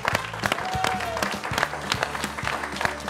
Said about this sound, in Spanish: Yo quiero que lo reciban con un muy fuerte aplauso